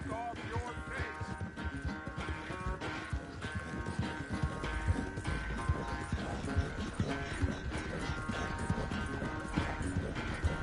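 Rhythmic clip-clop of horse hooves on a ride in Red Dead Redemption 2, steady and close, mixed under a busy bed of game music with a brief crash partway through.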